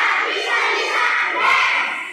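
A group shouts a spirit chant together in unison, a loud sustained crowd of voices close by, with no distinct claps standing out.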